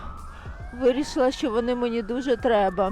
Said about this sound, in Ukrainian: це швидка тут їде